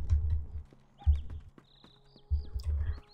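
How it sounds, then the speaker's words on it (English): Horse hooves clip-clop in the online game Lord of the Rings Online, three short clusters of close, heavy hoofbeats separated by brief pauses, with faint chirping tones and no speech. "should we get on the horse?"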